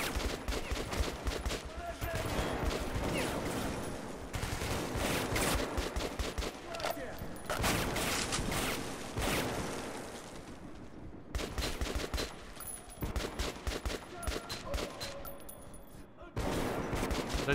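Gunfire from a scoped rifle in the video game Metro 2033 Redux rings out as dense, loud, repeated shots across the whole stretch, with talk over parts of it.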